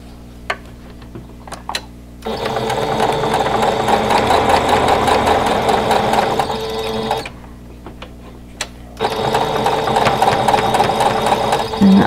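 A sewing machine stitches fabric pieces for a quilt block in two steady runs of rapid mechanical whirring and clatter, separated by a quiet pause with faint clicks, close by and without speech.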